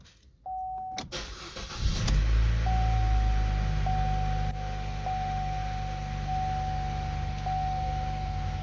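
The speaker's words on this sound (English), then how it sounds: "let's start the vehicle" Chevrolet Cruze engine starting with a cranking burst and catch, then settling into a steady close idle, with repeated electronic chimes and a brief beep at the start.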